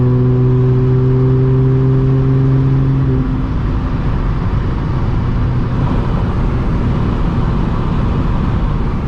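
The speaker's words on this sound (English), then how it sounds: "It still has that V6, you know, raspiness, because you can't avoid that, especially having test pipes" Audi S4 B8.5 V6 with test pipes and an aftermarket exhaust, a steady raspy engine drone with a low hum that shifts after a few seconds, heard continuously throughout.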